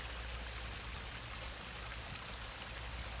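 Water pours steadily into a swimming pool's top skimmer, a continuous close rushing and trickling wash that stays even and faint throughout, with no voices.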